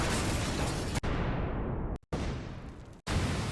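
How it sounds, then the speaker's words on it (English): Three separate explosions boom in succession, each a loud broadband blast that decays into a rumbling tail before cutting off abruptly. "Now for an explosion sound effect, we can start by just searching for an explosion"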